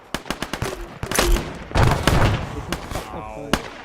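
Gunfire during a counter-ambush training mission in the video game Zulu-Alpha: a quick run of sharp shots, then dense overlapping bursts and scattered single cracks, with voices talking over the shooting.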